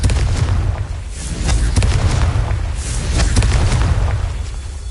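Confringo blasting spell explosions in Hogwarts Legacy, a series of deep booming blasts with rumbling bursts and crackles, loud and close, several impacts in quick succession with no talk.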